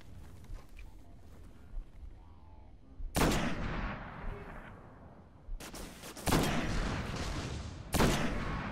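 Several sharp, loud gunshots from the video game Destiny, each ringing out with a long decaying tail, separated by quieter gaps of low rumble.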